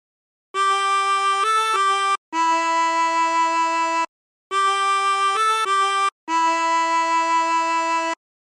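A harmonica plays a short reedy melody from Silent Night with bends, sustained notes with quick pitch shifts, the same two phrases repeated with brief pauses between them.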